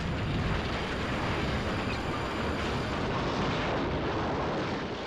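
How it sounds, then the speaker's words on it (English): A brick tower crashes to the ground in an animated Thomas & Friends film, a loud, dense roar of rumbling debris that fills the whole stretch steadily before easing slightly toward the end. "As the tower crashed to the ground, bricks and dust exploded everywhere."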